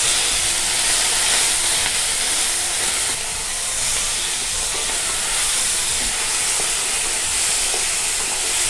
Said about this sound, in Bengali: এবার চিংড়ি মাছগুলো ছেড়ে দেব।